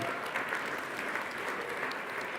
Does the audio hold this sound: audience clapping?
yes